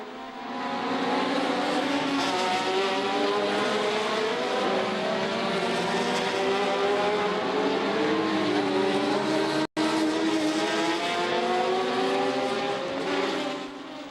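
1971 Formula 1 race cars scream past in a dense pack, high-revving engines layering into a continuous loud roar with rising and falling pitches, broken by one brief cut near the end.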